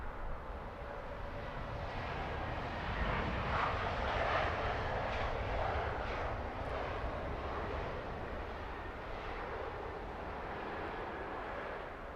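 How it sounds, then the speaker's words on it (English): A British Airways A320-200 airliner, inbound from Rome, arrives at Heathrow with a steady, loud engine roar that swells slightly in the middle and then holds as the jet passes. "This is British Airways flight 559. This one coming in from Rome on an A320-200."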